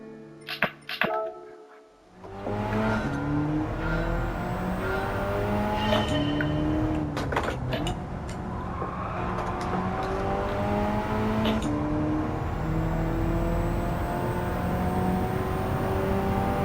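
A race car engine in the Gran Turismo 7 driving game revs hard and climbs through the gears, pitch rising and dropping with each shift, loud and continuous with a brief tire screech near the start.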